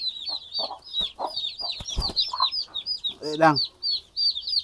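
Sampin chicken chicks cheep constantly in rapid, high peeps close by, while a hen clucks softly underneath and someone briefly speaks over them.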